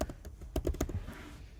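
Keys clatter on a computer keyboard in a short, close burst of uneven typing, with no talk over it.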